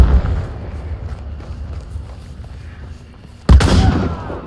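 A grenade blowing up in a first-person shooter game, a single loud boom that erupts suddenly after a quieter stretch of low rumbling background, then decays over about a second.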